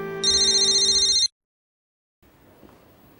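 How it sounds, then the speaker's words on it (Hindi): A telephone rings with a bright electronic tone for about a second, then cuts off into silence before faint room noise returns. "अब्बू नदीम का फोन।"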